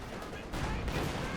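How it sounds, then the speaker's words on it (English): Long-range anti-infantry weapons fire across the battlefield in Company of Heroes 2, a short, dense burst of overlapping gunshots and rumbling artillery, loud and continuous throughout. "a lot of anti-infantry long-range shots just firing across the battlefield"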